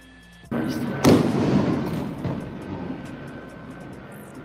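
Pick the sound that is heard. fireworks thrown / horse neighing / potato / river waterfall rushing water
fireworks thrown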